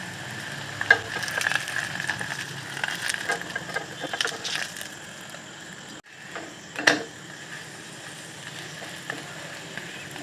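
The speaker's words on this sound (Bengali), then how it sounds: "উল্টে পাল্টে পরোটা ভেজে নিতে হবে" Potato-stuffed aloo parathas fry in hot oil over a high gas flame while being turned over, a low steady sizzle with scattered clinks and scrapes from the spatula and a louder bump partway through.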